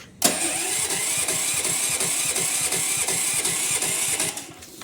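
A generator's electric starter cranks the engine by key without it catching, a steady rapid rhythmic whirring churn lasting several seconds before cutting off, close and loud.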